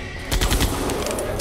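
Rapid bursts of gunfire in the Jurassic Park: The Game video game crack out loud and close, with a dense volley that trails into a lingering rumble.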